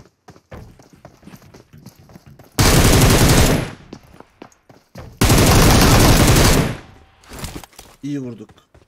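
Two long, loud bursts of rapid automatic gunfire in a video game, separated by a pause filled with quieter scattered shots and clatter, and close sounds in between.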